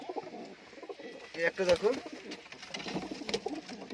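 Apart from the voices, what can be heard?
pigeons cooing in a fancy pigeon loft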